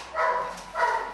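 Two short, loud barks from a nearby dog at a dog training farm, about half a second apart, with no voices around them.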